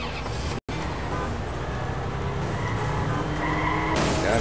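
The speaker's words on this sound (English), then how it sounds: "God, the car's fast." A fast car in the Does Not Commute mobile racing game accelerates with a steady engine roar and tire skids, loud and continuous, with a brief dropout partway.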